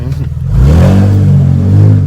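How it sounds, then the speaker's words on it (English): A Porsche Panamera S E-Hybrid engine with custom exhaust kicks in from electric mode and revs, a low steady rumble rising and holding for a couple of seconds after a brief quieter start. "A little bit more throttle. That's the engine on."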